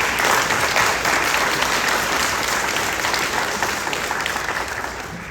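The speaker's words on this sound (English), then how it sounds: "Audience, if you could give them a round of applause, please." Steady, dense audience applause at a candidate forum, loud and continuous from start to finish and tapering slightly toward the end, with no voices over it.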